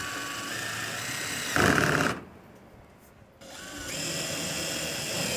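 Power driver running screws back into the panel of a Maytag dryer under repair in a garage, a steady whirring drive that swells louder for a moment, drops away briefly, then resumes at a sustained level.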